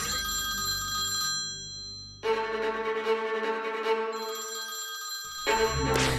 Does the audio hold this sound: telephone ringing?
yes